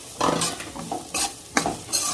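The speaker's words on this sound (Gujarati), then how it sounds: "હવે આપણે આ સમારેલા કાંદા પણ એડ કરી દઈશું" Chopped onions are stirred in a hot pan with oil and spices, producing bursts of sizzling and scraping in a few rhythmic strokes, close and clear, with no talking.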